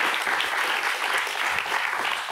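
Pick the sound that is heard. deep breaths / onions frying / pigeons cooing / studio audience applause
studio audience applause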